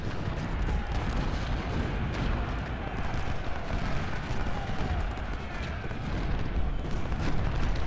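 Artillery and rifle fire in a Civil War battle in Ultimate General: Civil War, a dense continuous roar of overlapping gunshots and booms that fills the whole stretch, with no voices.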